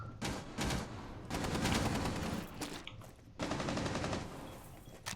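Rapid bursts of automatic gunfire from a Rainbow Six match, loud and close, with short pauses between volleys and no talk.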